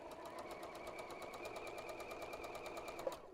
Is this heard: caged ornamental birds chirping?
no